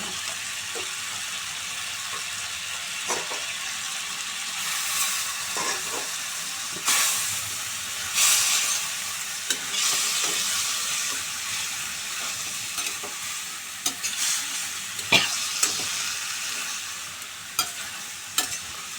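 Spices fry in a little oil with a constant, close hiss. A spoon scrapes and taps against the pan now and then while they are stirred. No one talks.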